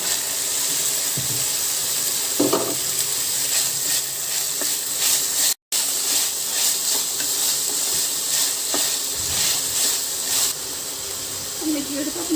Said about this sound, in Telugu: మనం ఇప్పుడు గ్రీన్ పీస్ వేసేద్దాము.